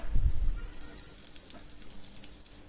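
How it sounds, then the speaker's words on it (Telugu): Fenugreek seeds, curry leaves and broken dried red chilies sizzle in hot oil for a tempering, a soft, faint crackling hiss that runs briefly on its own. "కొద్దిగా కరివేపాకు, ఒక 2 ఎండుమిర్చిని ఇలా ముక్కలు వేసుకొని పోపును వేగనివ్వండి"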